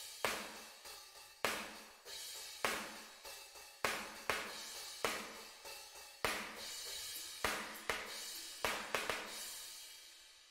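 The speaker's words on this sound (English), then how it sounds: "Cymbals sound like this." Unprocessed cymbals, crashes and rides from a drum plugin in a song mix, struck in a steady repeating pattern, each hit a bright wash that decays before the next, with no talking.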